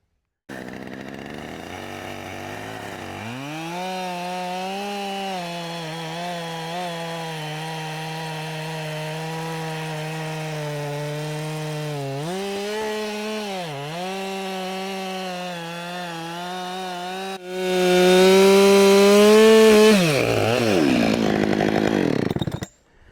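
A chainsaw bucks a big log into rounds: a steady, loud engine drone from the start, with dips in pitch as the chain bites into the wood, rising to a harsher full-throttle whine near the end before cutting off.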